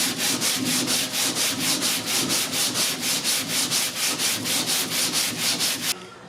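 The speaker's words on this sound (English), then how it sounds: "I've changed over to an 80 grit on the longboard, so started sanding there" Hand sanding on the body of a 1969 Ford ZF Fairlane with 80 grit paper on a longboard: steady, even back-and-forth rasping strokes, close and loud, about three per second, stopping near the end.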